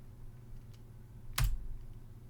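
Typing C++ code on a computer keyboard: one sharp, close keystroke clack near the middle, set against a steady low room hum.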